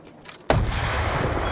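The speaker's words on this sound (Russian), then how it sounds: "Взрывай, Мейсон!" Sudden loud blast in the video game Call of Duty: Black Ops II that booms and then rumbles on with a sustained roar of debris, close and powerful, no voices.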